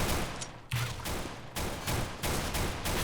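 Loud, dense gunfire during a Counter-Strike match, with sharp shots in several bursts that fill the scene and leave no clear gaps.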